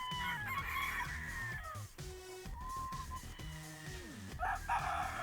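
Several gamefowl roosters crow one after another at a breeding farm, overlapping calls near and far with occasional clucks between them.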